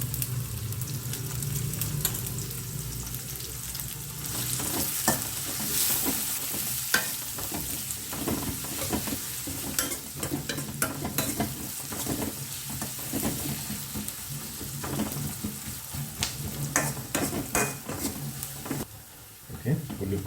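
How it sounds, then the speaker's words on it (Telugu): Onions fry in a pan with a little turmeric for chamakura pappu, giving a steady, quiet sizzle with frequent scrapes and stirs of a spoon against the pan, and a voice talks over parts of it. "ఓకే, ఉల్లిపాయలు కొంచెం వేగాయి."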